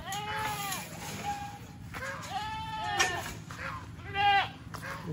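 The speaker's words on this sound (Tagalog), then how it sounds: "Tingnan natin yung kulungan ng kambing." Goats in a pen on a farm bleat repeatedly with wavering, nasal cries that come close and loud, overlapping in a few bursts over faint background noise and possible low talk.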